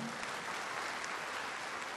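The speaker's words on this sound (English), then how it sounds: "Let's please give our panelists a big round of applause for their time." An audience at a Blizzcon 2011 Diablo 3 lore panel gives the panelists a steady round of applause, a dense, even clapping that carries through the whole brief moment.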